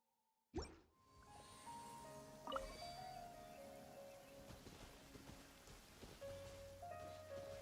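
Rain in the Genshin Impact video game starts abruptly and then falls as a steady, soft patter of drops, with faint tonal chimes ringing over it.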